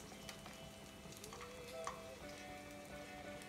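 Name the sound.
chicken frying in oil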